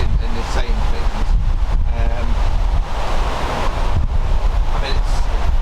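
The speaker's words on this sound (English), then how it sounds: "it's obviously quite windy and it'll probably be getting picked up on the audio" Strong wind buffeting a microphone outdoors by an old church, a continuous low rumbling roar with gusty fluctuations and bits of speech mixed in.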